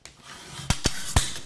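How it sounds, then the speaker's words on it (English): A Crafters Companion paper guillotine trimming card, heard up close as a soft sliding rub followed by three sharp, short cutting clacks in quick succession, with no talking. "I'm going to trim it down. I'm using my guillotine, my Crafters Companion guillotine."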